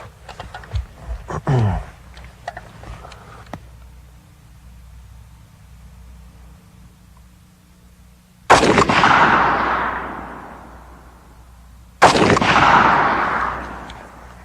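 An FN rifle firing 7.62x51 NATO (.308) lets off two loud, sharp gunshots several seconds apart, each with a long, decaying outdoor rumble, after quieter handling noises.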